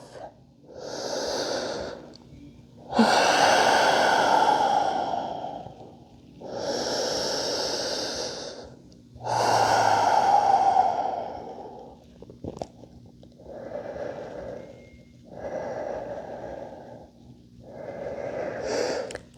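Deep, slow breathing during a yoga flow session: long, audible inhales and exhales in a steady rhythm, close and clear, with no talking.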